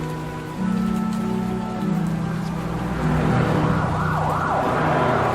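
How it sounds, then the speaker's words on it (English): Steady rain patters loudly throughout in the video game Batman: The Telltale Series, mixed with low droning tones and a wavering siren rising and falling toward the end. "there's a helicopter across the dark clouds, and it's raining."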